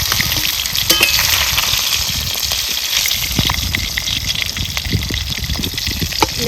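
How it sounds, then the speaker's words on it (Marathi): Pieces of fish fry in hot oil in a pan, giving a loud, close, dense hiss with crackling spatters that runs steadily throughout and has no speech over it. "आता ह्याच पद्धतीने राहिलेलं सगळं मासं तळून घेते"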